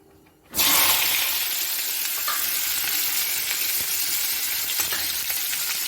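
Onions, tomatoes, dried chilies and cashews drop into a hot pan and start frying. The sizzle begins abruptly and then holds as a loud, steady hiss close by, with faint stirring clicks and no voices.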